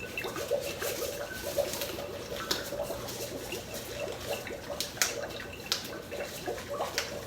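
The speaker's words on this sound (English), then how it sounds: "So I think the more we put in, the higher the bubbles go." Dry ice fizzing and bubbling in water, a continuous soft bubbling hiss with small irregular pops and gurgles, steady and fairly quiet throughout.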